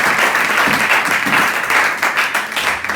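A church congregation applauds at a French-language service, a dense, steady wash of clapping from a crowd, close and loud.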